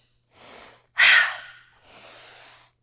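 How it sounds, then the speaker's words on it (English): Forceful power breath during a core exercise workout: one sharp, loud exhale burst framed by two softer, longer breaths, close to the microphone. "Power breath."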